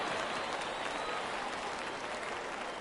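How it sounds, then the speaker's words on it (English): Stadium crowd in a baseball video game rising to a steady, loud cheer and applause for a full 3-2 count, a continuous wash of noise with no break, filling the whole stretch. "Crowd gets up for the 3-2."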